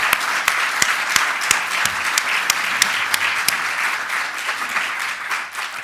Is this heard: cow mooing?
no